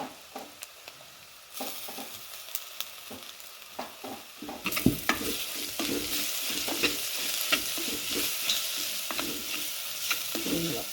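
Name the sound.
sautéing garlic and ginger in a pan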